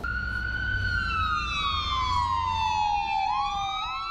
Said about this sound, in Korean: 그리고 또 앰뷸런스가 늘 왔다 갔다 하는 곳이고요.